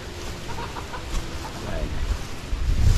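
Chicken clucking in short bursts near a farm harvest spot, mixed with background noise and low rumbles that swell toward the end.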